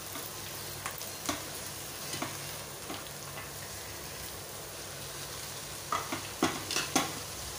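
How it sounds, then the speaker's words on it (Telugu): Amaranth leaves stirred into a hot pan of frying seasoning, giving a steady low sizzle with soft spatula scrapes and clatters that grow louder and more frequent toward the end. "మనం తోటకూర వేసుకుందాం."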